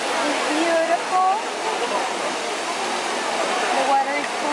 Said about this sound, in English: We are in Fontana di Trevi, Rome.